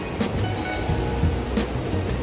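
Steady ocean surf washing onto the beach at Myrtle Beach, heard from an outdoor seating area as a continuous broad roar with gentle swells, moderately loud with no talking.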